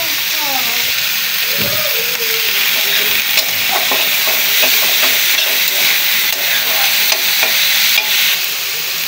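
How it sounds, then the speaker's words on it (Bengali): Prawns frying with onion, turmeric and salt crackle in a loud, continuous sizzle, while a spatula scrapes and stirs the pan in irregular strokes close by. A brief voice can be heard early on. "পেঁয়াজ দিয়েও কিছু সময় নেড়ে নেব"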